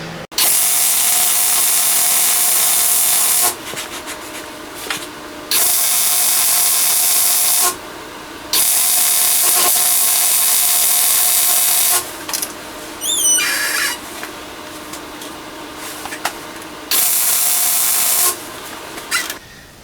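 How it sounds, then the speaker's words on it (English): Welding on the crossmember of a 1929 Ford Model A hot rod shop truck, a loud close hissing crackle in several sustained runs of a few seconds each, separated by short quiet pauses. "weld this up"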